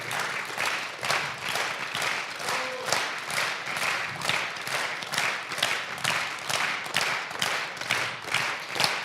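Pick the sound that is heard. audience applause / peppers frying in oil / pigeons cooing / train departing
audience applause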